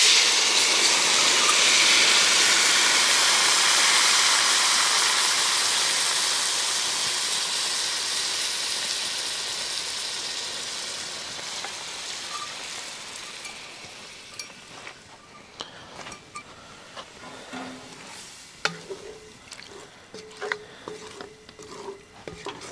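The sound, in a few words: wine poured into pan with braised beef short ribs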